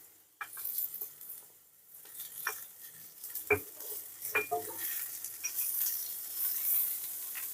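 Half-boiled carrots and beans tossed into a hot pan for mixed chow mein, giving a steady sizzle with scattered scrapes and clinks of stirring, plus one sharper metallic knock partway through.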